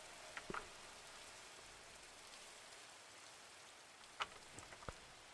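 Steady rain falls in Minecraft, played with the Create: Above and Beyond modpack, a soft continuous hiss broken by a few faint clicks and taps.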